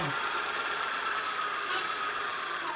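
A 1500 W fat bike's electric motor spins its wheel freely in fourth gear, a steady whirring hum with a faint high whine, held at a constant pitch throughout the short stretch.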